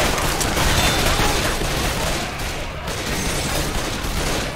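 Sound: pistol shots in video game Left 4 Dead 2

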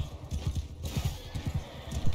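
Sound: cavalry horses galloping in video game Mount & Blade 2: Bannerlord

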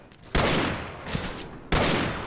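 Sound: gunshots in the video game Fistful of Frags

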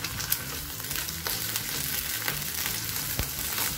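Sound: eggs frying in hot oil with salt and pepper

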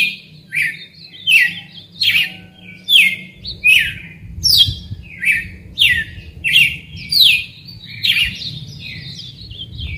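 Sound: red-cowled cardinal trilling in cage

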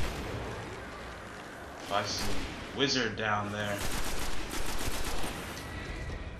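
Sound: gunfire in the video game Destiny

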